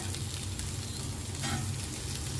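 Okra (bhindi) frying in a pan with coriander-cumin powder, red chilli powder, asafoetida, turmeric and kokum, a dense, continuous sizzle heard close up, with no one talking.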